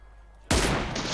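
A single loud, close gunshot in PUBG on the Erangel map bursts out after a quiet moment, its heavy report ringing on briefly before the clip ends.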